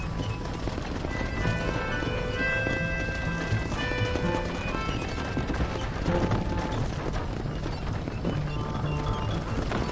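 Horse hooves clip-clop steadily in Red Dead Redemption, a dense rhythmic trot under constant game ambience and music.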